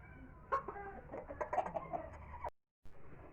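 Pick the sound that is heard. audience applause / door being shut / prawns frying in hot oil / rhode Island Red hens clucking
rhode Island Red hens clucking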